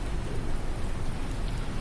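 Steady rain in Farming Simulator 19 on the Shamrock Valley map, a dense close hiss of drops that fills the whole moment without a break.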